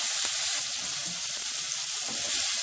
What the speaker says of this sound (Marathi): कांदा टोमॅटो परतून घेऊया।